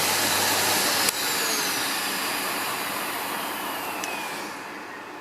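A SEBO Felix Rosso bagged upright vacuum cleaner runs with a loud, steady whine and airy rush, a sharp click near the start and a small knock later as the tone shifts slightly.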